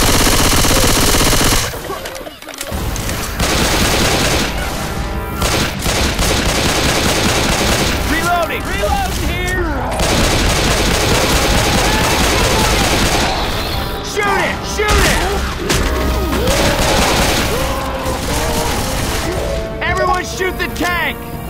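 Rapid machine gun bursts rattle loudly through a Left 4 Dead 2 fight on the Dark Carnival highway, with crashing impacts and shouted voices breaking in around the sustained gunfire.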